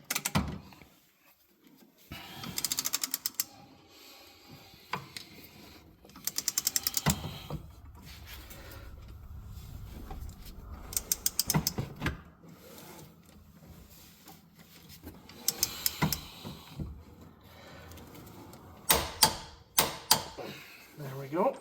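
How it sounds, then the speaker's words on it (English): A breaker bar is cranked to tighten a Yamaha Wolverine 850 or RMAX 1000 clutch to 181 foot-pounds, giving repeated bursts of clicking, ratcheting metal strain between quieter pauses. "we're gonna put the breaker bar in here, and we're gonna grunt this thing to 181 foot-pounds."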